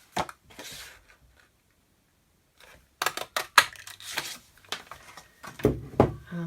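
A 1.5 inch circle punch cuts patterned paper with a few sharp mechanical clicks and clacks, after a quiet pause, followed by light handling noises close by.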